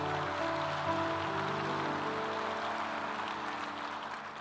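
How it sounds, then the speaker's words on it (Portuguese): A church congregation applauding during a worship service, a dense, steady wash of clapping that holds loud throughout and eases slightly toward the end. "Quem recebe aí, dá um aplauso ao Senhor."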